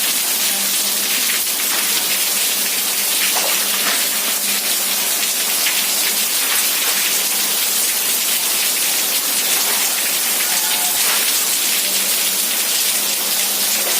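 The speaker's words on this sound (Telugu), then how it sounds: "వర్షము." Steady heavy rain pours down without a break, a loud, dense hiss of drops hitting surfaces close by, with no voices.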